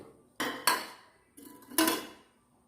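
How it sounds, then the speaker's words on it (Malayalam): Two pairs of clinking metallic knocks as a glass is set into a pressure cooker holding water, each pair a quick double clank, fairly close in a quiet room. "ഈ ഗ്ലാസ് നമ്മൾ ഒരു കുക്കറിൽ വെള്ളം എടുത്തിട്ട് ആ ഗ്ലാസ് ഇതിലേക്ക് ഇടുക"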